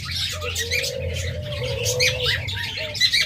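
Caged lovebirds of a popular colour call close by, giving high, rapid chattering squawks and chirps over a low steady background hum.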